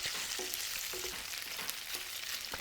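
Pad thai noodles fry in a pan with a soft, steady sizzle and occasional stirring scrapes. The sound is fairly quiet and close, and no one speaks.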